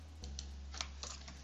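Typing on a computer keyboard: a run of soft, uneven key clicks at a steady working pace over a low hum, faint and close, with no talking.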